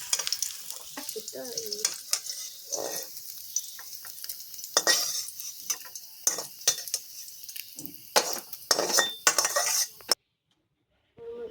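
Vegetables for a vegetarian paneer dish fry in oil in a kadai. Uneven sizzling mixes with frequent stirring scrapes and metal utensil clinks against the pan, then the sound cuts off abruptly near the end.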